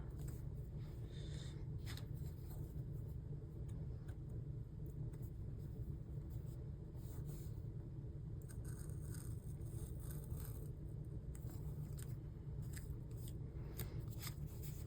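Scissors snip and scrape through paper while decorating a planner page, with several faint crisp cuts scattered over a steady low rumble of passing traffic nearby, and nobody talking.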